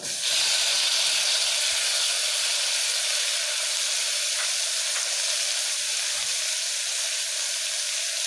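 Two medium tomatoes frying in a pan for brinjal rice give a loud, steady sizzle and hiss, with a few faint clinks of stirring underneath.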